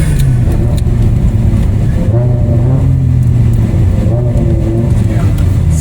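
A BMW E60 M5 on the move, its engine a loud, steady drone with rising revs partway through, heard from inside the car and running without a break under faint talk.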